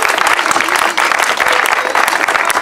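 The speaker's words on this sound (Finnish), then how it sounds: "Raikuvat aplodit." Loud audience applause and cheering erupts after a world-record chainsaw carving of a bear at Vuohkallio in Heinola, a dense continuous roar of many hands clapping close by.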